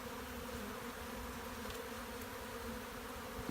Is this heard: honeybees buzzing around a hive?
yes